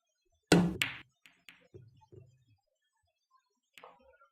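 Pool balls crack together on a hard break-style shot during a Friday night game of 9-ball. There are two loud, close impacts, then a scatter of lighter clicks and knocks as the balls roll and collide, with a last few taps near the end.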